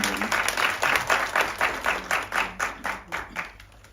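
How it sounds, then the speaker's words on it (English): A room full of people clapping, steady applause that builds and then gradually thins out over a few seconds. "Another round of applause from Prudence."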